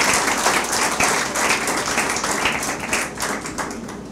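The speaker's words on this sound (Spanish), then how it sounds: "dé un aplauso al Señor" A church congregation claps for the Lord during a pastor's sermon, a steady wash of many hands in a reverberant hall with some rhythmic accents, continuing for several seconds without speech.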